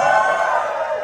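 A short, loud swell of an audience cheering and whooping together, sustained through the whole brief moment.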